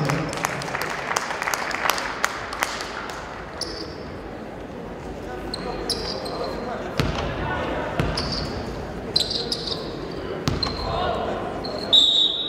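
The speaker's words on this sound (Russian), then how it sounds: "Поприветствуем аплодисментами стартовую пятерку нашей команды" Crowd applause welcomes a women's basketball team's starting five at a EuroCup Women game in an arena. The clapping is moderate and continuous, mixed with ball bounces and shoe squeaks, while an announcer speaks.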